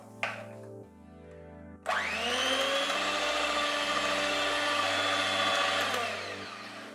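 An electric hand mixer whirs loudly and steadily through sponge cake batter made with refined oil. A few brief knocks come first, then the motor runs without a break for about five seconds.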